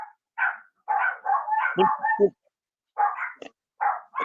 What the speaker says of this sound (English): Is that your dog, Jeff?